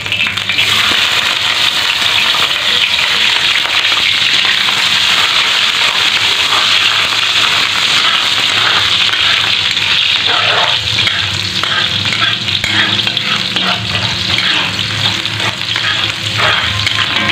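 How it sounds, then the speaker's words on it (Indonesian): Shallots frying in hot oil for sambal kecap, a loud, steady, close sizzle with crackling and occasional stirring throughout, heard alone. "Ini kita goreng bawangnya ya teman-teman,"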